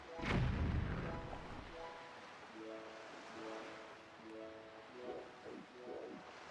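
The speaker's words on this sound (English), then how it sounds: "I'm gonna shoot a bomb." A bomb fired from a cannon in Zelda: Wind Waker, opening with a deep booming blast that fades into rumbling, followed by softer whooshing game tones and low rolling noise.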